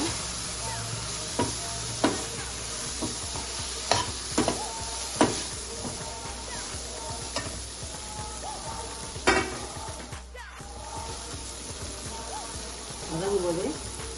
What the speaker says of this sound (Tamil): மிளகாய் பொடி கொஞ்சம் மசால் பொடி போட்டு நல்லா வதக்கலாம்